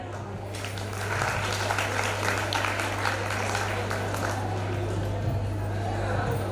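Applause from an audience at a school event, steady dense clapping that swells after the first half second and holds loud and even, with a steady hum underneath.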